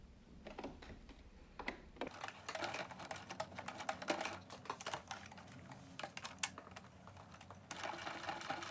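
A sewing machine run slowly by hand stitches running gaiters through steel wire, giving faint irregular bursts of quick ticking needle strokes with short pauses, close by and without talk.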